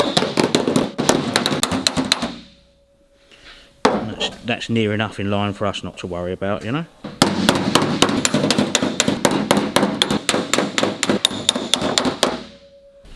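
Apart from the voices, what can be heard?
hammering sheet metal over a dolly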